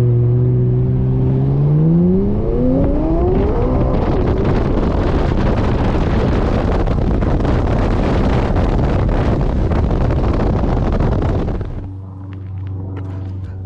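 McLaren 570S supercar engine climbing through rising revs with gear shifts, then a roaring pass with heavy wind buffeting on the microphone, settling to a low idle hum at the end.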